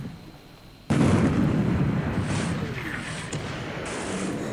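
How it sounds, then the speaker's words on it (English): Torpedo hit on a destroyer minesweeper in the naval war game War in the Pacific: a sudden loud explosion that becomes a long, rumbling roar, with crackling debris noise. Talk runs under the blast. "And now we have a torpedo hit on one of my DMS destroyer minesweepers"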